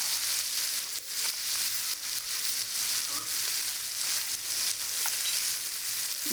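Banana flower curry with ground cumin, coriander, chilli, turmeric, tomato and salt frying in a pan, a steady close hiss and sizzle running throughout with faint scraping as it is stirred.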